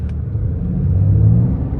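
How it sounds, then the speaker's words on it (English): A 2022 Ram 3500 MegaCab HO pickup truck accelerates hard from 0 to 60 on a slight uphill, a deep, steady engine rumble building under load, heard from inside the cab without speech. "I'm going to be doing a quick 0 to 60 here."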